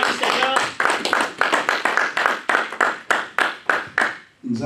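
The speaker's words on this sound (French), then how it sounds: "acclamez pour la parole du Seigneur" A church congregation claps in a steady rhythmic beat, loud and close, the sharp claps repeating evenly for several seconds with no talk over them.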